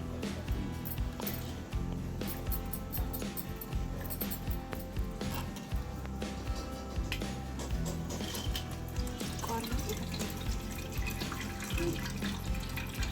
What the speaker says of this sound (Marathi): नारळाचा रस बनवून झालेलो असा आणि तो आता गाळून घेऊचा असा